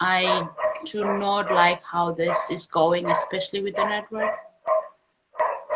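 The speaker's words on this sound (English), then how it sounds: "Oh no, I apologize for the dogs." Dogs bark and yip in the background while a person keeps talking over them almost the whole time.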